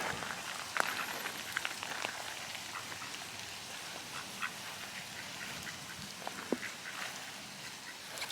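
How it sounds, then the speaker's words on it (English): Ducks quack now and then on a rainy hiking trail, short scattered calls near and far over a steady hiss of rain falling on the ground. "just to watch those little ducks waddle away"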